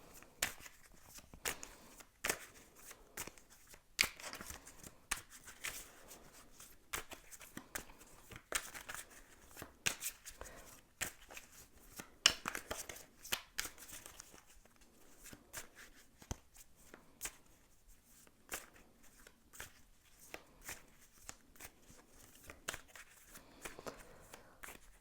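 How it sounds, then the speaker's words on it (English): Tarot archetype cards shuffled by hand, a steady run of dry riffling and flicking snaps with sharper clicks scattered throughout, close and fairly quiet with no talk. "going to shuffle some of these archetype cards just to get a little bit more information"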